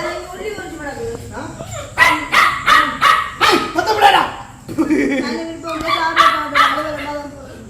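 A puppy in a Jaffna village barks in a run of sharp, close yips and barks, several quick bursts in a row, then a short pause before another cluster.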